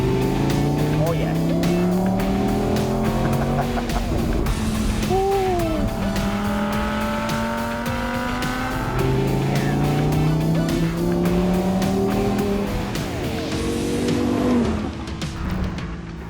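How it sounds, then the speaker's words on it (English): An Audi R8 V10 Spyder, a naturally aspirated 532 bhp V10, drives with the top down, its engine rising and falling through gear changes under steady wind noise and someone talking. "The engine is a 532 bhp V10 that belts out 540 Nm of peak torque."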